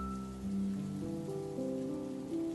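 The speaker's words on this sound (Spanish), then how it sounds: "escuchando la lluvia de fondo" Steady rain patters on a surface, a soft continuous hiss with a low tonal hum beneath it.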